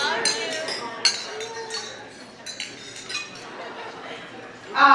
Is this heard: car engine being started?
no